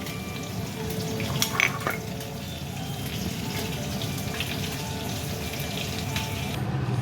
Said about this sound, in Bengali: মাছগুলোকে আমি নুন হলুদ মাখিয়ে 8 ঘন্টা রেখে দেওয়ার পর ভাজছি